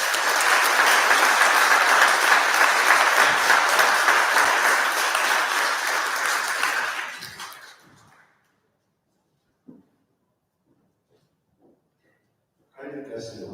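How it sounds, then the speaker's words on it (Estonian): Loud, sustained applause at a 9b class graduation ceremony at NPK, thanking Rico Ernst, fading out after about seven seconds into near silence, followed by a brief voice. "Viimasena tugevalt saame aplodeerida ja tänada Rico Ernst."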